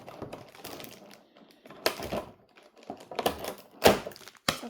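Scissors cut through the packaging of an anime figure box from Demon Slayer, giving uneven clusters of crisp snips and plastic crackles close to the microphone, separated by brief quiet gaps and without speech.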